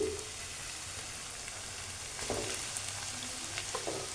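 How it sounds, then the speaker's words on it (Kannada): Steady sizzling of tomato masala in a pan while cooked rice is stirred through it for tomato chitranna, with a few soft scraping and stirring knocks over a continuous fry hiss and no talk. "ಈಗ ನಾನು ಅದರೊಳಗೆ ರೈಸ್ನ ಮಿಕ್ಸ್ ಮಾಡ್ತೀನಿ"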